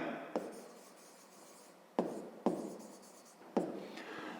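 A pen writes by hand on paper while a 5th-grade math exercise is worked out, making soft scratching strokes in a few short bursts with quiet pauses between them.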